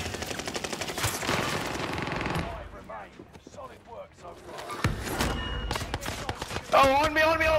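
Video game gunfire, with rapid automatic bursts and single shots that are loud and close, broken by a quieter stretch, as a player's excited voice talks over the action.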